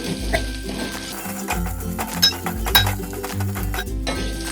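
Red chili powder and turmeric are stirred and sautéed in a pan for dal palak, with a sizzle under repeated scraping and clinking of a spoon against the metal pan, close and busy.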